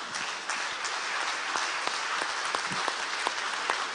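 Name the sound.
audience applause for the panel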